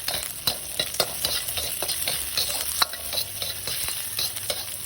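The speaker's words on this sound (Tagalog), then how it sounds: "ang gawin natin igisa natin na maayos syempre kagaya ng konting carrots at syempre yung sibuyas" Carrots and onion sauté in oil in a wok, a bright continuous sizzle broken by repeated scraping stirs of a utensil, close and lively.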